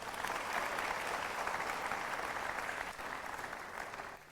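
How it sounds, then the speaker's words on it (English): A town hall audience at an entrepreneur event in Ghana gives a big round of applause, a dense, even roar of clapping heard at a distance that sustains and eases slightly near the end. "let's give Mr. Strive, Mr. M, a big round of applause"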